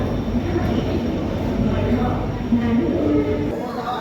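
Poorna Express running Pune to Ernakulam with new LHB coaches pulls into platform 1, giving a loud, steady low rumble and rolling roar throughout, with nearby voices mixed in.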